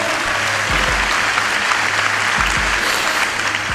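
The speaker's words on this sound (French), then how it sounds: "vous pouvez les applaudir" Sustained applause from an audience after a win in a Gang Beasts game played live, dense and steady for the whole stretch, with a low hum and a few thumps underneath.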